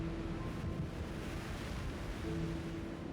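High waves and strong wind along the wild Algarve west coast in Portugal produce a constant roaring wash of surf and gusting wind noise, loud and unbroken, with no voices.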